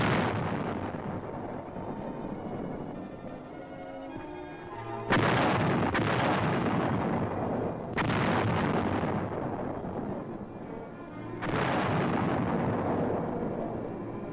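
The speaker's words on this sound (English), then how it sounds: "155 howitzers fire a sharp warning at the advancing Chinese" 155 mm howitzers of an artillery battery fire in the grounds of the Capitol building in Seoul during the Korean War, three heavy booms at about 5, 8 and 11.5 seconds, each with a long rolling decay, over steady background rumble.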